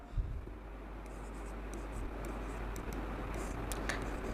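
A pen scratches steadily across paper as equations are written out during a Class 10 maths lesson on quadratic equations, close and continuous short strokes over a low steady hum.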